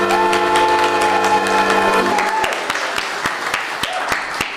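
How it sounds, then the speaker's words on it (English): Preschool children clap along to a sung children's song. A bright melody fills the first half, then sharp, evenly spaced group claps carry on in a steady beat. "Hands are for clapping, let's all clap along."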